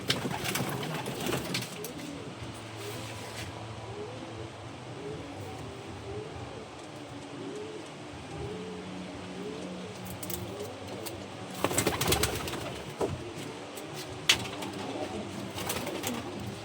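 Racing pigeons arriving at a loft during a derby coo repeatedly in soft low rolling calls, with sharp rattling bursts and occasional voices in the background.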